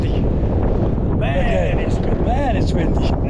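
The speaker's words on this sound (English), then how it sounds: "Man, it's windy." Loud, roaring wind buffets the microphone continuously on the 752-metre summit of Plynlimon Fawr in Wales, with a voice briefly audible through the rumble.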